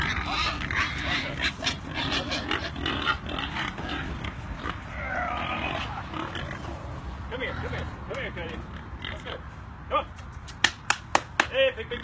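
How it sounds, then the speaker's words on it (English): Pigs grunt and oink on a pasture farm during hog loading onto a trailer, with people talking and coaxing throughout and a few sharp slaps or claps near the end. "we're about to get four pigs on the trailer and haul them away"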